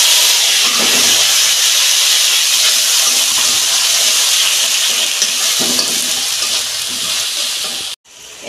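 Spice paste dropped into hot oil with a pinch of asafoetida, for a vegetarian cauliflower curry, sizzles loudly and steadily for several seconds, a dense close hiss with faint stirring, cutting off abruptly near the end.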